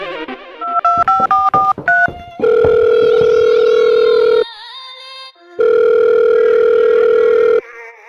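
A quick series of telephone keypad tones beeps out a number, followed by two long steady ringback tones separated by a short pause.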